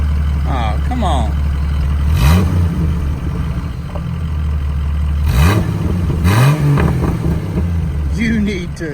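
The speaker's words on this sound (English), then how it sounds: "You wanna go floorboard it and go race around?" A Ford truck engine idles with a steady low rumble, then revs up twice in rising swells, loud and close; voices talk over the engine between the revs.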